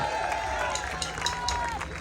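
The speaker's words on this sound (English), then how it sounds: "Give them a round of applause, guys." At a waterfront blues festival drum history show, an outdoor audience applauds and cheers for disco dancers, producing a steady, dense wash of clapping with crowd noise underneath a sustained musical tone, and a voice speaks briefly.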